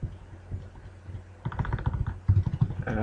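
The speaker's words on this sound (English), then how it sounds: "I wanted to try typing in a password." Keys tapped on a computer keyboard while entering a password during an 8-bit game session, a loose run of soft clicks that picks up in the second half, close and moderately loud.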